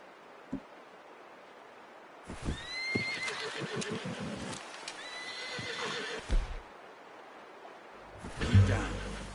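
Horse neighs and clip-clopping hooves in the video game Red Dead Redemption II, a whinny rising midway among scattered hoof thuds and rustling, with a louder burst near the end.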